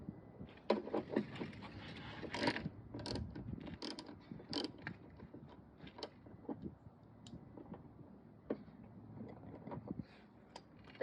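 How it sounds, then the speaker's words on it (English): A ratchet with an extension works a bolt loose near the wheel well of a Toyota Tacoma during a mud flap install, giving rapid, uneven bursts of close metallic clicking over light handling noise. "I'm going to use the extension for the ratchet to get out"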